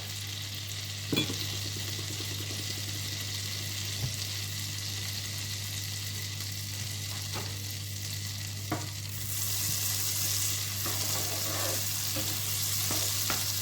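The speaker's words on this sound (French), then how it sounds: "on va faire revenir les oignons" Onions sauté in about 30 grams of butter in a pan, a continuous close sizzle with occasional stirring scrapes and clicks, the frying growing noticeably louder and brighter partway through, with no voices.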